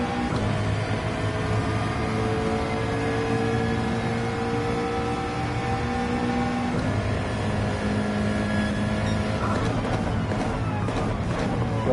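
Ferrari 458 Italia V8 engine in Gran Turismo 7, a steady loud mechanical drone with rising and falling pitch through gear changes, continuous and close throughout with no voices.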